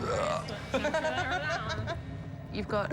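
A receptionist burps in the middle of a hair salon, a drawn-out belch heard close and loud, with voices and chuckling over it.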